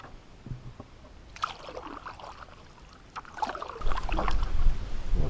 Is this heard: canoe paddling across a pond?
yes